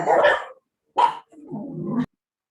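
Dogs bark in a few short, close bursts separated by brief pauses, followed by a longer, lower growling or whimpering stretch.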